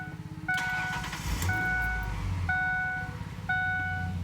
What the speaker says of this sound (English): So basically starting the engine,